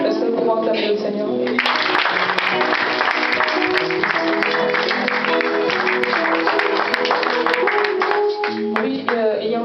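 A church congregation applauding at an evangelical service, with loud sustained clapping from a crowd mixed with music and voices, continuing steadily throughout.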